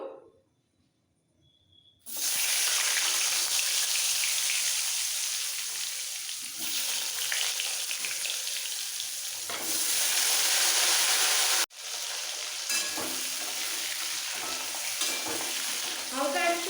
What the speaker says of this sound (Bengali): নুন হলুদ ছাড়াই আলুগুলো একটু ভাজা ভাজা হয়ে গেছে